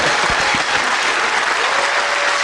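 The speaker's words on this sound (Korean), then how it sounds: "차기 대통령 후보 안희정 지사 박수 주시고요" Audience applause at a Korean talk show's final episode, a dense, loud, steady wash of many hands clapping close by for the whole short stretch, with no voices over it.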